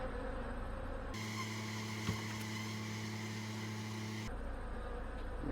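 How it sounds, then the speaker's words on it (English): A loud, steady buzzing drone of honey bees at an open hive swells in close for a few seconds, then cuts off back to quieter background. "Wow, a lot of bees."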